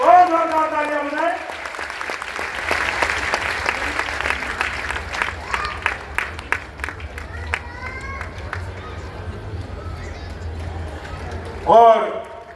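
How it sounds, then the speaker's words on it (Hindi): Hall audience at a Shiv Mahapuran religious gathering in Paschim Vihar applauds steadily for several seconds, a broad continuous wash of clapping between bursts of talk at the start and end. "जोरदार तालियां बजाएं, बहुत जोरदार तालियां बजाएं"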